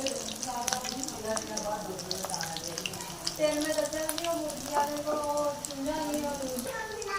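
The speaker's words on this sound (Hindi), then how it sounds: "इसी तरह दोबारा से फ्राई करेंगे" Chicken cheese balls deep-frying in hot oil, giving a continuous bubbling, watery sizzle with small crackles, steady and close, while someone speaks faintly at times.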